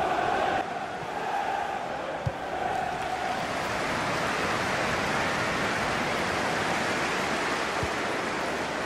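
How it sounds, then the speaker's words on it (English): A stadium crowd in FIFA 18 keeps up a steady, broad roar after a goal, with a brief commentary voice near the start and a couple of faint thumps within the sustained buzz. "it really gets the crowd buzzing"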